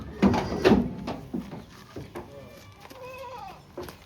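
Kathiyawadi goats bleat nearby in a few short, wavering calls, mixed with scuffling and clattering sounds.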